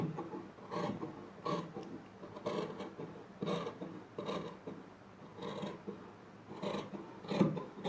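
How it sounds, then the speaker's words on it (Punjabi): Scissors snip through fabric along the armhole of a kurti, a soft, close, rhythmic series of rasping cuts repeating steadily about every half second. "ਆਪਾਂ ਕਟਿੰਗ ਕਰਾਂਗੇ ਆਰਮ ਹੋਲ ਦੀ"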